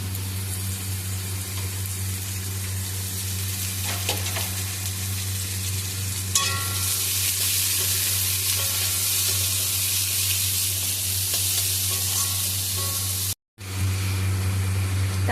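Chopped onion sizzles in a pan with potato and garlic for a bitter gourd and potato chorchori, a loud continuous frying hiss with stirring scrapes over a low steady hum that cuts out briefly near the end.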